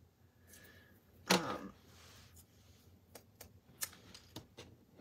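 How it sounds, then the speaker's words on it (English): Small scissors cutting through yellow designer patterned paper at a craft table, a few crisp close snips with one sharp loud cut, in a quiet room. "I am going to take a little pair of scissors and kind of create my own"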